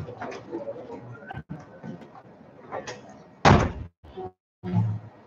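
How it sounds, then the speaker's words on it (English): A door being closed in a room just before a talk, one firm thud with a brief rattle, preceded by shuffling and background voices and followed by a short quiet moment. "It's okay if I close the door."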